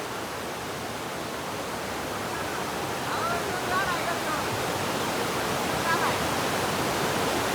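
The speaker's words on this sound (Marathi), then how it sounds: "नदीला आलेला पूरही पहा" A river in flood after heavy rain roars with a constant, dense rush of water that fills the whole clip and swells slightly partway through.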